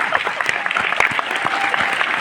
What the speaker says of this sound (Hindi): ठोको ताली अपने लिए, बढ़िया से मुस्कुरा के बजाना